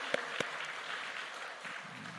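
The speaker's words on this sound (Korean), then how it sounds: "격려의 박수 다시 한번 하시겠습니다" A church congregation gives a short round of applause during a Sunday service, faint and steady, with a couple of sharper claps near the start.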